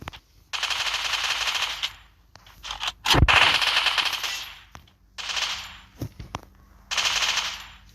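An MP5 submachine gun firing in a video game: several sustained bursts of rapid automatic fire separated by brief pauses, with a few sharp single shots and metallic clanks in between, fairly faint, with no talking.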